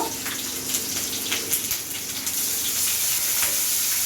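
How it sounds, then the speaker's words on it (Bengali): Garlic and leafy greens sizzle and fry loudly in a pan on a home stove, a steady crackling hiss with occasional stirring scrapes and no talking. "ভালো করেই করে নিই, শাকটা কষে নিই।"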